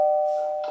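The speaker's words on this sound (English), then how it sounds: "From the doorbell, listen to the wonderful sound." A Minecraft doorbell gives a single clear sustained chime tone that rings on and fades slightly, close and alone with no talk.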